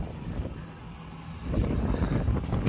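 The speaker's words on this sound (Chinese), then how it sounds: "外面风太大了，呼呼的。" Strong wind blowing outside, a steady low roar of rushing air and microphone buffeting that grows louder partway through.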